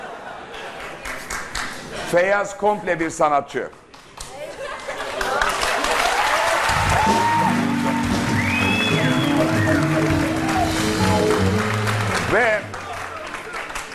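Studio audience applause breaks out on a Turkish talk show, a dense steady clapping that swells in mid-clip and holds for several seconds under music and someone talking, tapering near the end.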